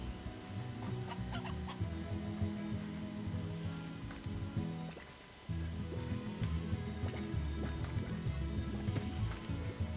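A stony hen in the video game Slime Rancher clucks repeatedly over a busy in-game ranch soundscape with music, steady and moderately loud, with a brief dip midway.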